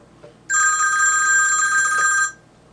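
A telephone rings once, a bright electronic trill lasting about two seconds, loud and close, starting and stopping abruptly in a quiet room.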